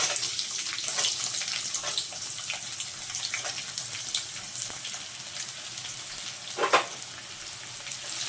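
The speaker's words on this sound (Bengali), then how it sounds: "আর এখন দিয়ে দিচ্ছি পেঁয়াজ কুচিগুলো" Chopped onions going into hot oil for an egg pulao made with broken rice, a steady close sizzle and hiss running throughout with a few sharper crackles and a louder spatter near the end, no voices.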